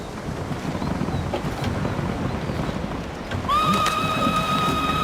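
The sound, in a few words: horse neighing in video game Ghost of Tsushima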